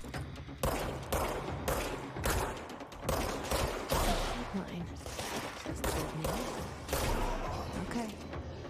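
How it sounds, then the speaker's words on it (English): Gunfire in the video game Control, rapid bursts of shots and fusillades crackling in quick succession, fairly close and loud, with thumps between volleys. "Who's shooting at me?"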